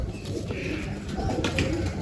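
Pigeons, including a black-spotted male with his female, coo softly in a loft, low throaty murmurs overlapping steadily at close range with no talking.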